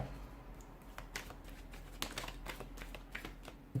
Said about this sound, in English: let's go ahead, give the cards a shuffle, and let's begin